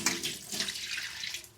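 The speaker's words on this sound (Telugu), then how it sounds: "ఇంకా కొంచెం వాటర్ పోసి" Water pours into a simmering curry in a pan, a steady splashing stream running unbroken for a moment at moderate loudness.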